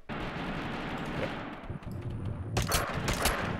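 Gunfire in the video game Totally Accurate Battlegrounds (TABG): dense, continuous automatic shooting throughout, growing louder and sharper in the last second with rapid bursts, and no talk over it.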